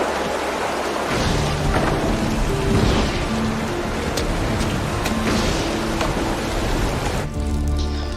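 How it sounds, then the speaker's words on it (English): Steady rain pours down through a thunderstorm, a dense continuous hiss with low thunder rumbles rolling underneath, loud and close throughout with no voices. "It's raining outside."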